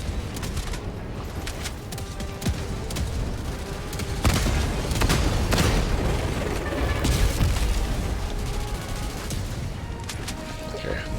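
Turret destroyed in Helldivers 2 during an automaton fight: dense, continuous gunfire and clattering mechanical bursts, with a louder swell of booming impacts midway that holds steady and noisy to the end.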